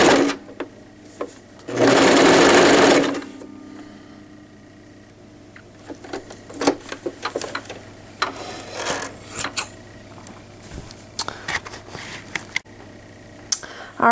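A sewing machine runs straight and zigzag stitches in a burst of about a second, close and loud, followed by quieter clicks and handling of fabric with no voices.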